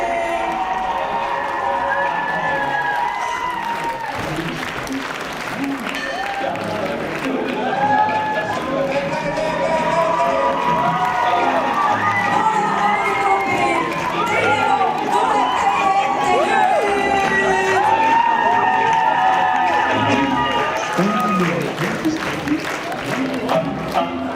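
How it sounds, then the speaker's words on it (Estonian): A large outdoor summer-festival audience at a youth talent show applauds steadily and cheers for the full stretch, a dense, loud wash of clapping with excited voices and chatter throughout. "teeme imeilus aplausi"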